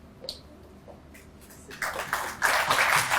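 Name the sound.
applause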